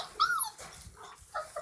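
Puppies whimper with high, thin whines and give a few short yips and barks, close by, in an otherwise quiet setting.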